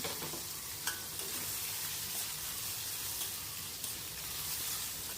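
Carrot and capsicum strips stir-fried in a pan for egg chow mein, a steady broad sizzle with scraping stirs throughout, close and continuous with no talk.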